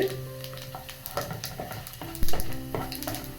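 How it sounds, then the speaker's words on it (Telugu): Whole spices for upma fry in hot oil in a pan, a crackling sizzle with sharp pops and a few clinks of stirring, close and fairly loud, with no talk. "ఆ స్థిరమో దినుసులు కూడా వేగినట్టున్నాయి."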